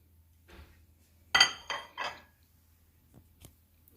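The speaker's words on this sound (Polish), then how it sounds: "Wrzucam ziemniaki do naczynia miksującego." A few clattering thuds as potatoes drop into a Thermomix mixing bowl, three quick impacts close together, then a couple of faint knocks in a quiet room.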